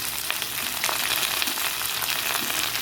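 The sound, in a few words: potatoes, onion and chili frying in a pan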